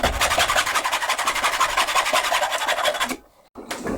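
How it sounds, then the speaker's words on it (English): A hacksaw rasps back and forth through a wooden haunch clamped in a vise, with rapid even strokes close and loud, then a brief pause before cutting resumes. "Now to get rid of this haunch, I'm just going to take my hacksaw and cut it off."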